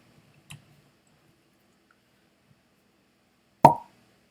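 A natural cork comes out of a bottle of Benromach 10 Speyside single malt Scotch whisky indoors, a small click early on, then a single crisp, close pop after a long silence.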